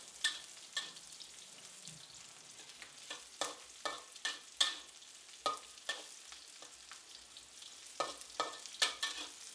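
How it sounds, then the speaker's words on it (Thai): Sliced shallots and garlic frying in a pan, a quiet sizzle punctuated by a run of crisp, sharp spatula scrapes and taps that grow more frequent toward the end, close by with no voices. "จากนั้นก็ใส่หอมแดงซอยกับกระเทียมค่ะลงไปเลย เราจะเจียวให้กระเทียมกับหอมเนี่ยค่ะหอมดีก่อนนะคะ"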